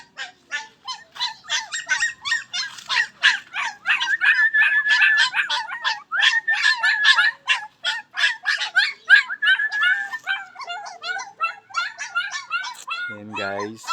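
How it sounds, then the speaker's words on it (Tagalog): A dog yelps and whimpers in a long rapid run of high, squeaky cries, close and insistent with brief gaps, ending with a lower, louder sound. "ang ato aso"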